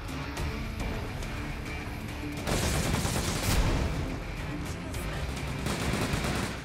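A big gun firing in the PS Vita game Freedom Wars: dense, rapid bursts of gunfire with heavier booming blasts layered in, loud and continuous across the whole stretch, with no voice over it.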